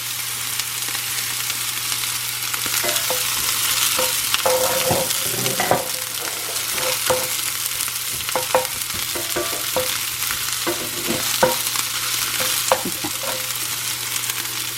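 Onions frying in oil in a skillet, sizzling steadily throughout, with repeated scraping and stirring clatters at close range.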